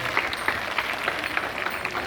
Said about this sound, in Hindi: उम्मीद है आप सभी अपने सदन का ढेर सारी तालियों से उत्साह बढ़ाएंगे